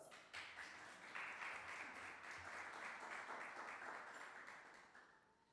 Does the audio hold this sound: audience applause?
yes